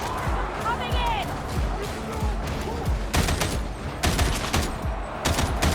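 Gunfire in Warhammer 40,000: Darktide, rapid volleys of sharp shots in repeated bursts that grow denser partway through, mixed with game effects and a player's voice talking over them.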